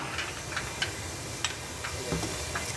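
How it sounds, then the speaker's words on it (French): White steam hissing steadily out of a distillation still, a broad soft rush with small ticks and sizzling crackles scattered through it, close and moderately quiet, with no voices. "on voit la vapeur blanche qui sort"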